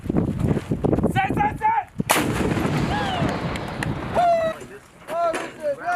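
Artillery fires directly at an impact area 700 meters away during a Cobra Gold 2020 military exercise: a loud, sharp blast around two seconds amid continuous rumble, while people talk and shout over it.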